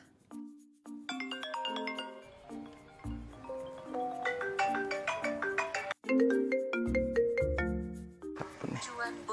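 A phone ringtone plays a bright, chiming electronic melody of stepped notes that rises and repeats for several seconds, fairly loud and close, with a voice speaking briefly over it.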